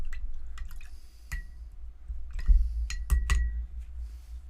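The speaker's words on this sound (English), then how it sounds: "And wash your brush." Acrylic paint brush being washed in a water container, with scattered drips, light splashes and glassy clinks against the jar, close and fairly quiet over a low steady hum.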